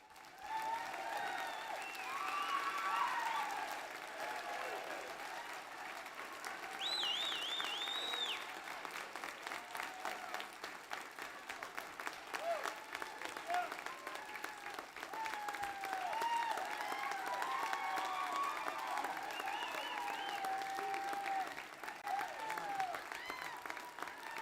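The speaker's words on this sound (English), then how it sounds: "Please, a warm round of applause." Audience at a County of Hawai'i inauguration ceremony applauding at length, with steady dense clapping throughout, quite faint and distant, joined by scattered cheers and whistles above it.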